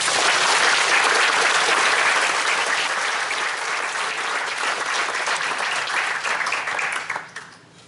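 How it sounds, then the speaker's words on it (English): Dense, loud applause from a crowd at an annual meeting rolls on steadily for several seconds, then thins and dies away quickly near the end. "Please join me in a round of applause."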